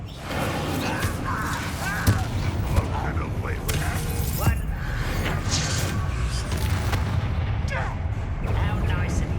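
Incendio and Descendo spell casts go off in Hogwarts Legacy in a goblin mine: dense rumbling blasts, whooshes and creaking mechanical clatter, loud and continuous, with occasional sharp bangs.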